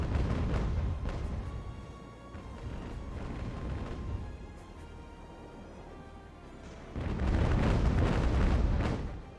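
Ship cannon broadsides in the video game Ultimate Admiral: Age of Sail: deep booming volleys and rumbling blasts, loud at the start, easing through a quieter stretch, then a heavy burst of fire near the end.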